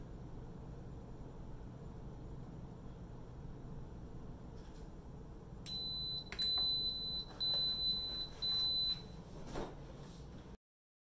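An electric pressure cooker in a kitchen beeps as it comes to pressure: a quick run of short, high electronic beeps, moderately loud and close, over a faint background hiss, with no talking.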